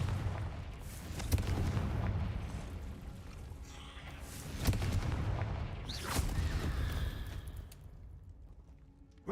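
Confringo blasting spells going off in Hogwarts Legacy: a string of loud explosive booms and crackling bursts, several sharp hits spread over the stretch with rumbling tails between them.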